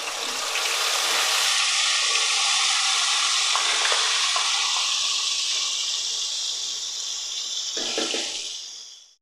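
Loud, hissing sizzle bursts up as spices hit hot oil with fried potatoes, then slowly fades, with faint stirring scrapes close by.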